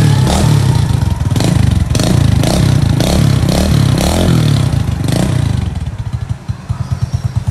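A Honda Alpha motorcycle upgraded to 110 cc runs close by, its engine revving unevenly with clattering bursts before settling into a steadier, choppier idle near the end.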